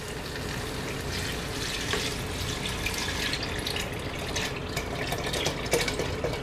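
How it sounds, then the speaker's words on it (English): Beef stock for French onion soup is poured into a stock pot, a continuous splashing liquid stream that runs the whole time at moderate level, with no voices. "Pour that in there, in your stock pot."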